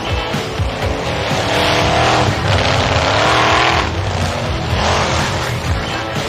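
A monster truck roars at a 1986 monster truck show, its loud engine revving up and down with bursts of tire squeal over the ongoing arena noise.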